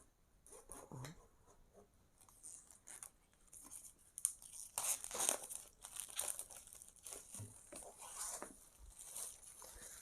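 Plastic wrapping being pulled off a Lenovo Tab M10 HD tablet box, close crinkling and tearing that comes in uneven bursts and grows louder midway, with short pauses between handling sounds.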